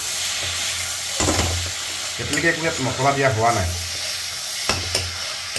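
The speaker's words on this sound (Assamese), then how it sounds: "আপোনালোকে দেখিছে আলু আৰু বিলাহীখিনি ক্ৰমাৎ সিজিছে।" Potatoes and tomatoes sizzle and simmer in a pan, giving a steady frying hiss with a few stirring scrapes and bubbling bursts. A voice talks briefly over the cooking.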